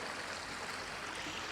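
Water from the po'owai running through an auwai irrigation ditch, a steady, even rushing and burbling that is soft and continuous, with no other sounds over it.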